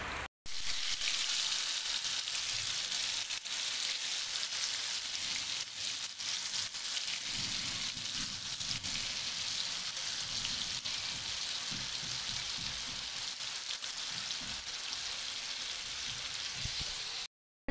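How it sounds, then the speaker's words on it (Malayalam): Chicken pieces fry in oil in a small pan, cooked in batches, with a steady, even sizzle and crackle that continues alone for the whole stretch at a modest level. "ഇപ്പോൾ ചിക്കനൊക്കെ ഫ്രൈ ചെയ്തെടുക്കുകയാണ്"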